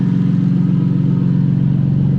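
Steady idle of a Lexus SC300 through a freshly built custom exhaust: a close, loud, low rumbling hum that stays constant without revs or voices.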